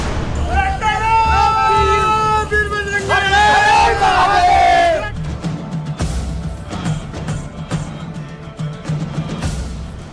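A crowd of Kanwar Yatra pilgrims chanting Bol Bam slogans: loud, tuneful group chanting for about five seconds, then fading into a general crowd hubbub.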